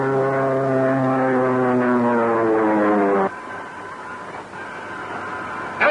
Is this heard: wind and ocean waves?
no